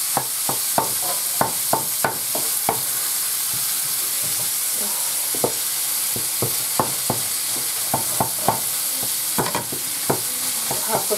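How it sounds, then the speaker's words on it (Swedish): Minced meat fries in a pan while tacos are being made, a steady loud sizzle with repeated sharp crackles and scraping stirs throughout, no voices. "och steker köttfärsen"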